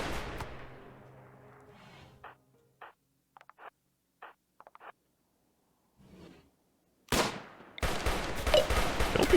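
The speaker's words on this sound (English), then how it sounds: "Don't be shooting at us." Gunfire in the colony sim RimWorld: a series of short, separated gunshot pops spaced irregularly through near silence, bracketed by louder bursts of noisy ambience at the start and end.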